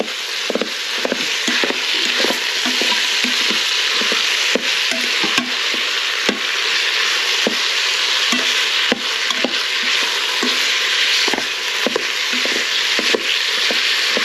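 Minced beef frying in a pan, with a continuous loud sizzle broken by repeated sharp scraping and tapping strokes of a meat masher breaking up the mince.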